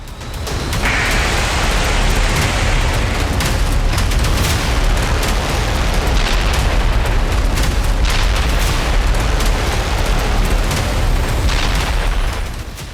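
A heavy, sustained rumbling roar of explosions, with repeated booms and crackling bursts layered over one another throughout.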